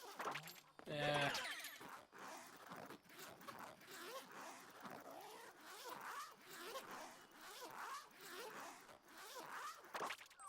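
A zipper being pulled in the Super Mario Odyssey video game: quick, raspy zips repeat one after another across the whole stretch, loud and close, with some game sounds beneath.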